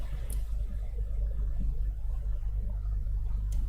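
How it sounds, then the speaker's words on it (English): A grinder in a waste photovoltaic panel recycling plant runs with a continuous low mechanical hum and rumble, fairly faint and steady, with a couple of faint, brief high clicks. "The orange one is a grinder."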